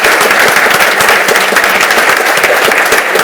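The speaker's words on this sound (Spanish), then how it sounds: "Un aplauso para ella." Audience at a university career centre inauguration applauding, a loud, dense and continuous wash of clapping filling the room without pause.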